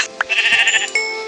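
A sheep in the Minecraft Skyblock video game gives one loud, close, wavering bleat lasting about a second, alone with no talking.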